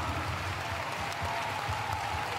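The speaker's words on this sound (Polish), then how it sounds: "Ogromne brawa!" Festival crowd applauding at the Pol'and'Rock 2019 open-air concert after a singer's set, a continuous roar of distant clapping and cheering with a low rumble underneath, steady and fairly quiet.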